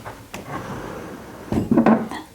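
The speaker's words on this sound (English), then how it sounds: "This just looks like a trim piece on the buffet portion of the china cabinet, but it's actually a drawer" A hidden drawer disguised as trim on the buffet portion of a china cabinet slides open. It gives a close wooden scrape and a couple of soft knocks, with a louder clunk near the end.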